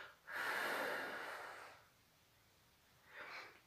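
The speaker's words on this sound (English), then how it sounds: "Try and blow each individual finger, or you could blow from the base of the finger up to the top as you're exhaling." A child blows breath out onto the fingers during a slow exhale: one long, breathy whoosh of about a second and a half, then a quieter, shorter puff, close and soft with no talking.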